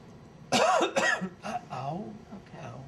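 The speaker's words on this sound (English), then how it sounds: "on the last one, take a good deep cough." A single deep, forceful cough bursts out, followed by a second shorter cough and some breathy, strained vocal sounds, close to the listener.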